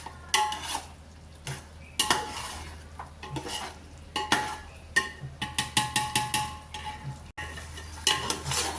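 Pepper paya pulav is stirred in a pot with a ladle, giving repeated sharp metallic scrapes and clanks in an uneven rhythm over a light sizzle, close and clear.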